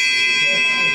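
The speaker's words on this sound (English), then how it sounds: "And this is a little stag bell." A small stag chime bell rings with a steady, bright metallic tone that holds for about a second, close up and alone.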